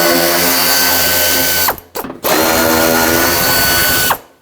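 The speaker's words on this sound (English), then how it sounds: "There are three 10mm screws along the top of the wheel arch here" A ratchet spins out 10mm screws from a Toyota Tacoma fender liner at the wheel arch, two close, loud bursts of rapid clicking separated by a brief pause, then stopping abruptly.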